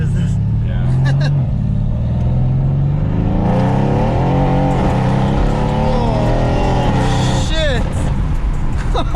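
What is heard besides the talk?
Mercedes-AMG W205 C63S engine revving loudly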